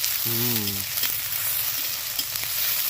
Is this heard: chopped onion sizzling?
yes